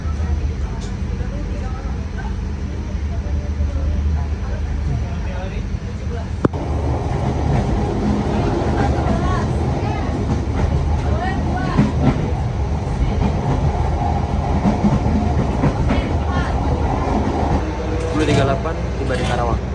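Steady rumble and rattle of a passenger train running on rails between Cikampek and Bekasi in rain, heard from inside a carriage with faint clicks and people talking at times.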